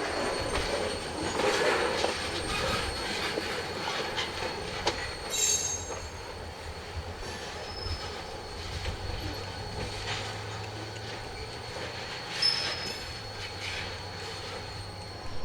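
Freight train led by locomotive 3200 hauling loaded cars down the main line on the Missouri & Northern Arkansas Railroad's Clinton Branch, a steady rolling rumble with wheel squeals and clanks, heard at moderate distance with no voices.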